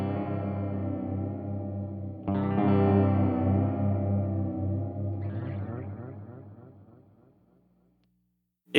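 Electric guitar played through a Behringer Vintage Time Machine delay pedal: sustained, effected chords ring out with repeating echoes trailing behind, then a fresh strum thickens the wash before everything fades away into near silence.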